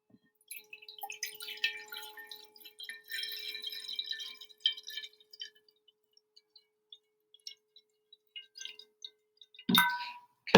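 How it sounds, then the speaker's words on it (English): A steady, pure ringing tone hums quietly for several seconds while small clinks and taps sound nearby, ending with a sharper knock. "If I put the tuning fork over, hopefully you can hear that."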